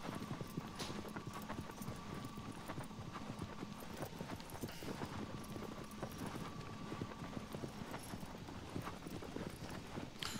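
Horse hooves clip-clop at a gallop in the video game Shadow of the Colossus, a continuous fast rhythmic patter under a steady wash of ambient game noise, moderately distant and fairly quiet throughout.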